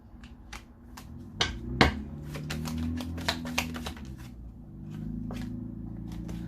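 Crisp, irregular snaps and flicks of tarot cards being shuffled, close up, with a low steady hum underneath and no talking.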